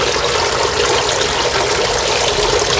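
Water pours steadily from the outlets of a homemade shrimp pond filter at low water level, giving a continuous close splashing rush with no talking.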